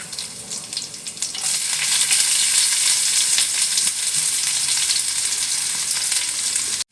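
Chopped onion and garlic hit hot oil with cumin seeds and set off a loud, steady, close sizzle that swells after a quieter start and holds to the end.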